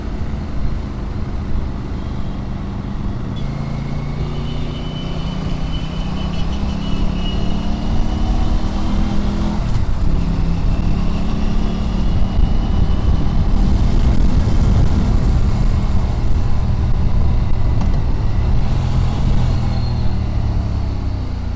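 An Aprilia RS 457 motorcycle engine drones steadily while being ridden, its hum rising and falling through gear changes, moderately loud beneath wind rush.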